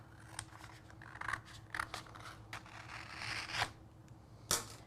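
Scissors snip through Dollar Tree peel-and-stick paper in a series of short, crisp cuts, close and fairly quiet, with faint rustling of the sheet between snips.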